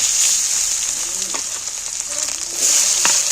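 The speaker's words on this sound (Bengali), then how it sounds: "এবার ওই তেলের মধ্যে নাড়াচাড়া করে পেঁয়াজগুলোকে ভেজে নেব" Chopped onions frying in hot oil with cinnamon, cloves and cardamom, a continuous close sizzle with light stirring clicks throughout, a little louder near the end, no voices.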